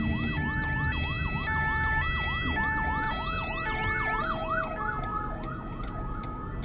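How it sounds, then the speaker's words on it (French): A wailing emergency vehicle siren sweeps up and down repeatedly and continuously, loud and fairly close, over a low rumble of traffic during a driving lesson. "Prenez en considération le bruit de la sirène"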